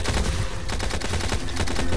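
Rapid gunfire from an overheating gun in a chaotic video game, a dense, continuous burst of loud shots that fills the whole moment without pause.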